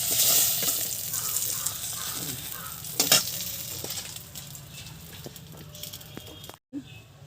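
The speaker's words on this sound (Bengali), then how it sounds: "জ্যান্ত মাছ বেশি ভাজতে নাই, হালকা ভাজলে ভালো" Koi fish fry lightly in oil in a blackened pan, a close, loud sizzle with occasional utensil knocks that gradually softens before cutting out briefly near the end.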